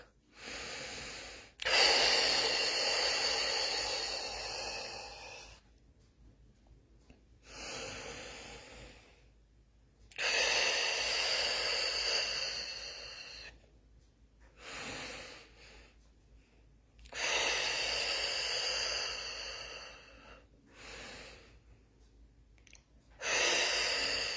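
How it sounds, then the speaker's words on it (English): Forceful, hissing breaths from a breathing exercise come in long sustained bursts separated by short silences, loud and close to the microphone with no talk. "Start doing this breathing."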